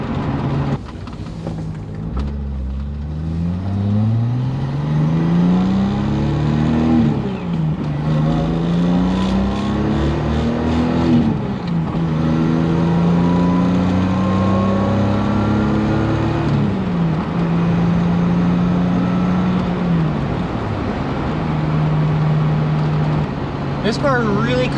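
A Datsun 280Z revs hard while driving a narrow country road with no lane divider, its engine climbing through repeated rising pulls with brief shift dips, loud and close from inside the car, with someone talking over it.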